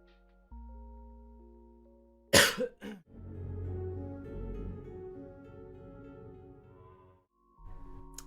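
A single sharp cough with a quick follow-up burst, close and fairly loud, heard during a livestream of a Lego NASA Artemis SLS rocket build, with quiet tones before it and a murmur of background sound after.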